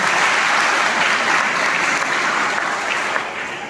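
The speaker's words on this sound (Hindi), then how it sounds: "तालियां तो बजा दो भाई।" Dense, steady applause from a hall full of school students at a motivational talk, loud and sustained, easing slightly at the very end.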